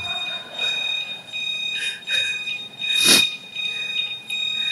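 Intermittent electronic timer alarm beeping in a church service hall, several short tonal bursts repeating with brief gaps, one louder burst near the end, over low room noise.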